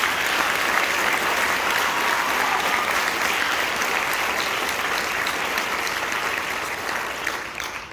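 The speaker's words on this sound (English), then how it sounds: "So a big round of applause for Ryan Elber." Audience at a high school end-of-year concert gives steady, sustained applause, a dense wash of many hands clapping that holds for several seconds before tapering slightly.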